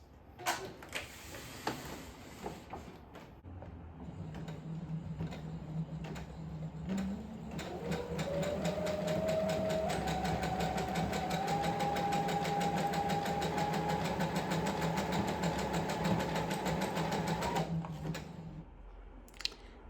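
A sewing machine embroiders a letter onto a baby onesie, its motor running steadily for most of the stretch with a rising whirr and rapid needle ticking, starting and stopping near the ends.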